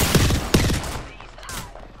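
Video game gunfire, two heavy close bursts of rapid shots about half a second apart, each trailing into a fading rumble, with a short voice line near the end.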